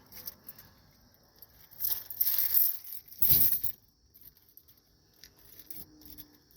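Jeep car keys jingle in two short clinking bursts, close and fairly quiet.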